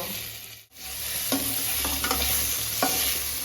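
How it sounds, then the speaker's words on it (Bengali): Split jujube fruits dropped into hot oil, where a short gap gives way to a loud, steady sizzle with several spatula strokes scraping through the pan, close and without speech. "এই যে দেখো যে কুলগুলো ফাটিয়ে রেখেছিলাম কুলগুলো দিয়ে দেব"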